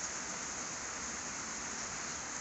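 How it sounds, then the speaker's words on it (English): Steady rain falls as an even, hissing wash of noise at constant level, close and unbroken throughout with no talking. "the rain just let up a little, so it's not as loud"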